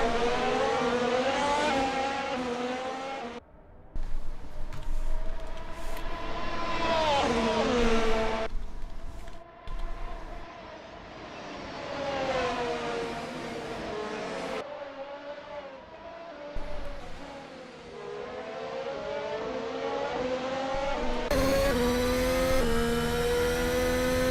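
A race car laps the Silverstone Grand Prix circuit in a racing game, its engine whining loudly and rising and falling through gear changes, with brief dips while braking and no talk.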